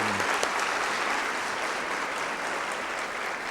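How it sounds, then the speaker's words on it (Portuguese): Steady applause from an audience at a career forum talk, dense clapping held at an even level throughout without a break. "Eu estou aqui aplaudindo a dona Adelaide."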